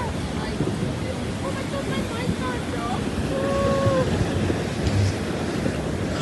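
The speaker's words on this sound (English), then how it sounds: "those waves" Ocean waves surge and wash in a continuous rough roar mixed with wind buffeting the microphone, fairly loud and unbroken for several seconds.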